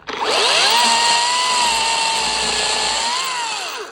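A Makita DUC254 cordless chainsaw cuts through a live tree branch with a loud, steady motor whine that dips slightly under load and then eases off as the cut ends, heard alone.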